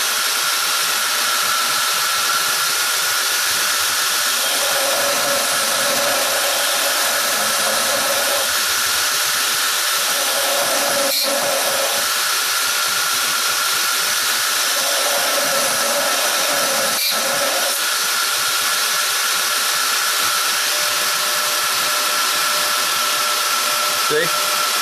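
A bench grinding wheel profiles a knife blade: a continuous loud, high motor whine with a harsher scraping grind that comes and goes as the steel is pressed against the wheel, plus a couple of sharp clicks.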